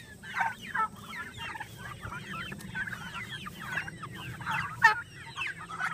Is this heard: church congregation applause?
no